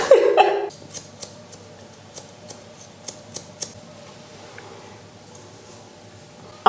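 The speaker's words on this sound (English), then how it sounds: "I'm just gonna trim my bangs" Scissors snip through hair while someone trims their own bangs, with a series of short, crisp cuts spaced irregularly against a quiet room background.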